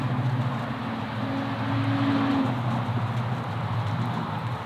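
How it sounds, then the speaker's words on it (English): Steady roar of road traffic passing continuously, with low engine rumble and broadband tire noise, fairly close and even in level throughout. "Traffic."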